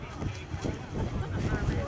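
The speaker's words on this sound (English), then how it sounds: "there's plenty of wind there." Gusty wind buffeting a microphone near the water at a New Zealand agricultural show, rising and falling in rough low rumbles, with a voice faintly mixed underneath.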